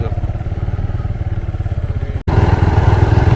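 A motorcycle riding through a village, its engine putting out a loud, close, rapid throbbing idle that cuts out for an instant and then resumes slightly louder.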